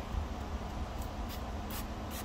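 Several short hissing bursts of a spray bottle of Vonixx Izer iron fallout remover on a wheel, repeated at a quick irregular pace close by, over a quiet background.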